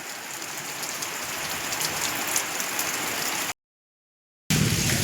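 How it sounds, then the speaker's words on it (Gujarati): Heavy rain pours at a temple on Janmashtami night during a thunderstorm, a loud continuous hiss of drops on surfaces that cuts out for about a second before resuming. "વરસાદ ઘણો પડી ગયો છે"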